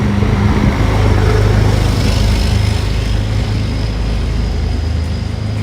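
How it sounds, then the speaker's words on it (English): A loud truck rumbles past close by, a heavy low engine roar with a brief higher whine that swells and then slowly fades while the background stays noisy. "That was a loud truck there."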